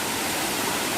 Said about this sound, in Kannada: అద్భుతమైన జలపాతం